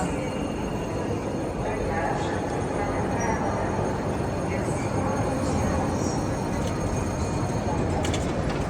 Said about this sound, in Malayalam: യൂറോ സ്റ്റാറിൻ്റെ ഒരു ട്രെയിനാണിത്